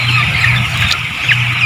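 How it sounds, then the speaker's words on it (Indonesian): Broiler chickens stirring awake, a dense mass of clucking and soft calls from many birds at once, close and steady throughout the short stretch with no talk. "Ini membangunkan ayam."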